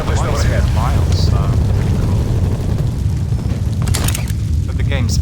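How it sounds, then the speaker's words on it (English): Deep booming explosions from the Call of Duty Cold War video game roll under continuous rumbling battle noise, with a voice talking over the loud game audio. "But the game's very loud, you know, with the explosions and everything else."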